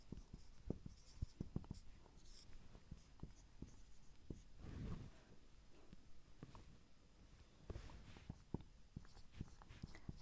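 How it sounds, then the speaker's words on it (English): Chalk or marker writing on a board during an algebra lecture, with many short taps and scratchy strokes in quick bursts throughout, close and clear, with no talk over it. "there are certain properties that I will write on the board now"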